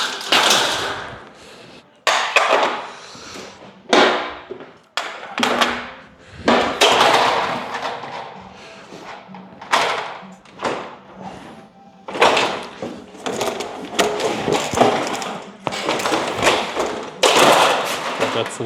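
Aluminium trim being tapped into place while the covering is installed gives a series of loud, close thuds and knocks in irregular bursts, with pauses between them.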